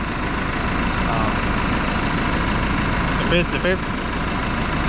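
A hay mower's engine drones steadily and loudly at close range, a constant low rumble throughout with a brief higher squeal or voice-like sound near the end.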